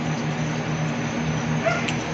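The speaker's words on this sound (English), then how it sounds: "Why is this dog barking?" A dog barks somewhere at night, around one in the morning, in faint, muffled bursts set back from the listener under a steady low hum, with no talking.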